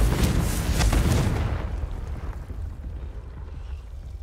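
A Confringo blasting spell goes off in Hogwarts Legacy, a loud broad roaring blast that rumbles and then fades over a few seconds into a low windy hiss.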